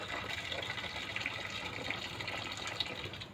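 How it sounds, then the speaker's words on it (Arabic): Boiling water pours steadily into a stainless steel tray, a continuous soft splashing gush lasting a few seconds with no voices over it. "صينيه اهو ستانلس، هحط فيها ميه مغليه"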